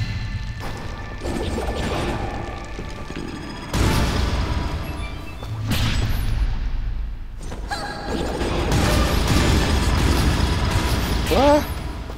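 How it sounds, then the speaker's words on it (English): Loud crashing explosions boom repeatedly in Dust: An Elysian Tale, several heavy blasts and smashes following one another over a dense game soundtrack, with a player talking and exclaiming throughout. "Explosions going off everywhere."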